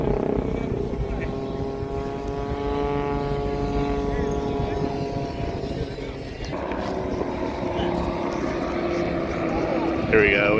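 A stunt plane and a helicopter performing together at the Huntington Beach airshow: a droning propeller-engine tone that rises and falls with rotor beat beneath it, heard at a distance while someone talks over it.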